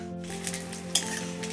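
Sweet potato pitha with mung dal and coconut filling crackles steadily as it fries in hot oil, with a soft, close bubbling hiss and a faint clink near the middle.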